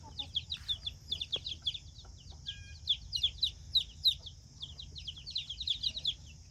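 Newly hatched chicks peeping rapidly and continuously around a Leghorn hen on a farm, a dense stream of high, bright cheeps in quick bursts, moderately close, with a low steady background hum.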